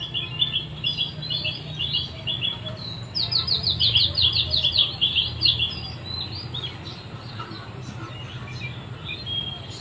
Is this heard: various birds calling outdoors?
yes